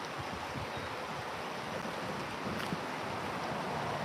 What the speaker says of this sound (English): what's really loud is the river